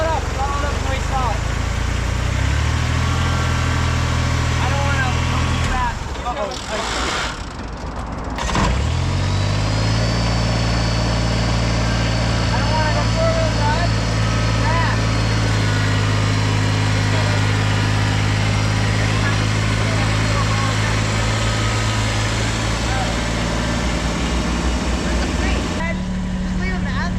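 Kubota tractor engine running close by while digging out mulch beds, a steady loud drone that cuts out briefly and then throttles up to a higher, sustained pitch, with voices over it.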